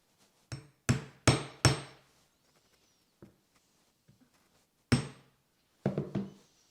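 A small diamond chisel is hammered through leather to punch stitching holes: sharp close knocks, a quick run of four, then scattered single taps and a final cluster, with no voices.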